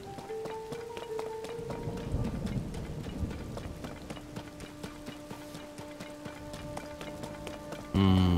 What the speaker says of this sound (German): Das Problem ist, jetzt gewittert ist.